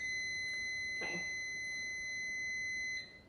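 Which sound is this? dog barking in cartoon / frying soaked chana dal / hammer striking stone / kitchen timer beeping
kitchen timer beeping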